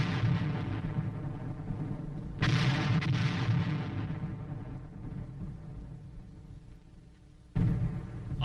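Artillery barrage pounding enemy hill positions during the Korean War, a continuous dense rumble of distant gunfire with heavier bursts swelling in at intervals, loud and steady throughout.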